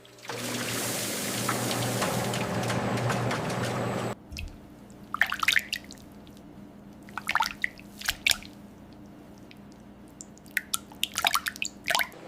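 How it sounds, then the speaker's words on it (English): Cold water washes through butter on a factory production line: a steady broadband rush of running water for about four seconds, then a quieter stretch of scattered wet drips and squishes. "Cold water washes through the butter to remove leftover buttermilk."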